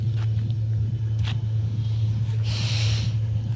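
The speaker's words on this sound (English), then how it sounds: "still there are a few vehicles going by." Vehicles pass along a quiet street near a pond, a steady low engine and tyre rumble that stays fairly loud throughout, with a brief brighter swish of a passing car near the end.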